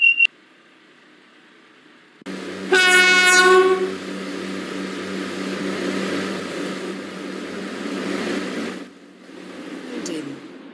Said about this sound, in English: The train now standing at platform.